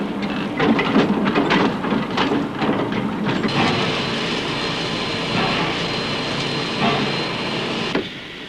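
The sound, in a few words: coal trucks rolling on railway siding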